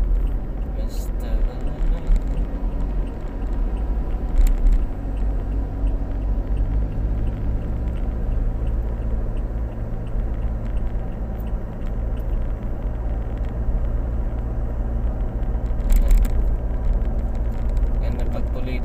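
A car driving on the road toward an airport terminal, with a steady low engine and road rumble throughout and a few brief louder bumps.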